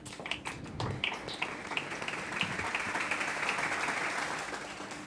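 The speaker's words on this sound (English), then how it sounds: "Round of applause, please." Audience applause after a talk about Beirut: a dense, steady wash of clapping that swells slightly and holds for several seconds, with a few sharper taps at the start.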